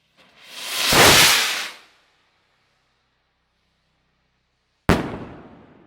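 A 66 gram The Rocks firework rocket by Celtic, a willow-effect type, launches with a loud rising whoosh lasting about a second, then bursts in one sharp, loud crack that crackles away after a short silence.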